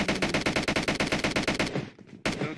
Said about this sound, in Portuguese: O maluco com arma tá matando geral ali, ó.